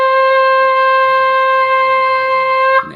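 A Sundanese suling degung bamboo flute plays note 3 (na) as one steady, loud, sustained tone with clear overtones, held about three seconds alone before it breaks off.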